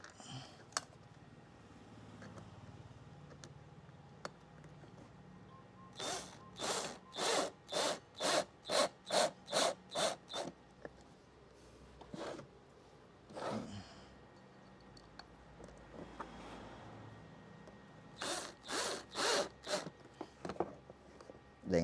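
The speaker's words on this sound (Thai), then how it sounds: "ใส่ลงไปตรงๆนะแล้วก็ขันน็อต" A screwdriver or wrench tightens a screw on a homemade power box, with rapid rhythmic bursts of ratcheting scrapes in several separate runs, close and fairly quiet.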